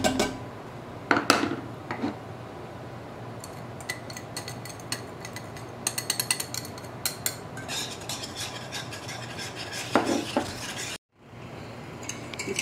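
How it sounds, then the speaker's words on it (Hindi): Butter, cream and chocolate are stirred together in a pot for a chocolate cake, with a spoon scraping and clinking against the metal in irregular close taps and swishes, briefly dropping to silence near the end. "पहले ये सब कुछ मिक्स कर लें फिर इसको चूल्हे पर चढ़ाएंगे।"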